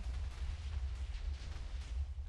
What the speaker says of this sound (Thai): มาครับการระเบิดที่ยิ่งใหญ่